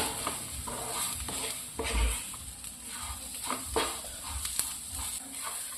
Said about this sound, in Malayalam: കറിവേപ്പിലയും കൂടെ ചേർത്ത് 1 മിനിറ്റ് ഒന്ന് വഴറ്റിയെടുക്കാം കേട്ടോ